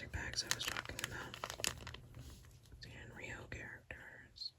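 Plastic bags from a Japanese grocery and Daiso haul crinkle and rustle close up in bursts, then quieter handling while a woman whispers softly over them.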